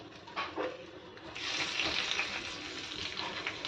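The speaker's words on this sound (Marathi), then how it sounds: "ही फोडणी आहे ना ती आपण मच्छीवरती घालायची आहे" A hot tempering of golden-brown garlic and dried chilli in oil is poured over Kerala-style fish curry, starting with soft kitchen clatter and then bursting into a strong, hissing sizzle that lasts a couple of seconds.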